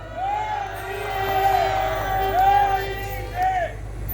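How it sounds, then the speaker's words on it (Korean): A large rally crowd cheers and whoops loudly over a steady babble of voices, with rising shouts swelling in waves for several seconds. "변지 대표한테 뜨거운 박수 부탁드리겠습니다."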